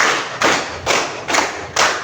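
Group hand claps follow a counted cue, three loud, evenly spaced thick thuds with a fourth starting at the end, each ringing briefly before the next.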